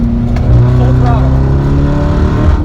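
A car accelerating at full throttle on the Bosch proving grounds, a loud engine roar rising in pitch, heard from inside the cabin with people talking over it.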